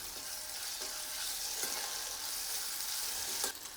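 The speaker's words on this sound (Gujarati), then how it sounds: "ટમેટું પણ ડુંગળી સાથે સરસ મિક્સ કરી દીધું છે." Chopped tomato and onion sauté in a hot pan for a dahi bhindi curry, a steady, fairly quiet sizzle with a few faint scraping stirs and no voices.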